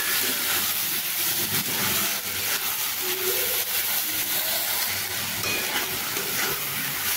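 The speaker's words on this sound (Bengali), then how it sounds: "এবার আমি এইভাবে সবগুলোকে বেশ ভালোভাবে এইভাবে মিশিয়ে কয়েক সেকেন্ড আমি এইভাবে ভাজতে থাকবো" Ingredients for Basanti pulao sizzle and crackle steadily in a hot pan as they are stirred and fried, a loud, continuous frying hiss that lasts throughout with no talk over it.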